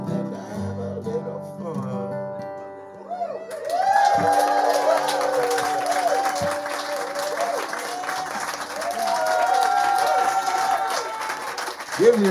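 Audience breaks into applause and cheering after a sung song, the clapping starting a few seconds in and continuing loud and dense, with a musical tone fading beforehand.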